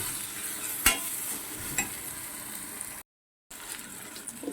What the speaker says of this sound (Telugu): వేగింది కదా, మటన్ వేసేస్తున్నాను.